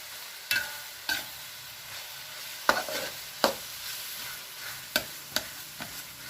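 Tomatoes are stirred into a frying pan, giving a steady sizzle broken by about eight separate scraping, clattering strokes of the utensil, close and fairly clear, with no talking.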